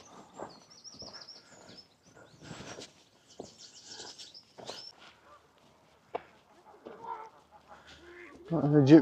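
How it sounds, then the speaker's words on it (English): An Egyptian goose on the Grand Union Canal near Leicester gives short, scattered honking calls among ducks. The calls are intermittent and mid-distance, and a louder burst comes at the end. "Got an Egyptian goose there,"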